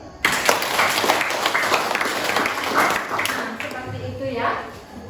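A class of students clapping for their teacher in a classroom, a burst of many hands that starts suddenly and thins out, with voices talking over and after it.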